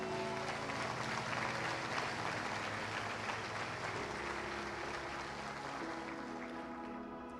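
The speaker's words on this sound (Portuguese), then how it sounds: "Aplauda Jesus" A church congregation applauds, a dense sustained wash of clapping from many hands that fills the room and holds steady before tapering slightly, with faint voices mixed in.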